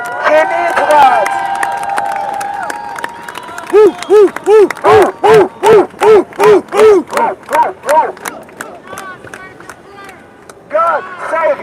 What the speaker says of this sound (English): Guys, let's give applause to our president.